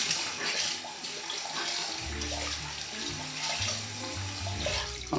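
A tap runs to wet a Beauty Blender makeup sponge, a close steady stream of water splashing into a sink, with the flow shifting in tone partway through.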